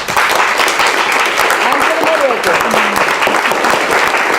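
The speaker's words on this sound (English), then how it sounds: "Now we close up this panel, and a big applause for the panelists." Steady, dense applause from a conference audience closes a panel session, filling the whole stretch at an even loudness with a few voices mixed in.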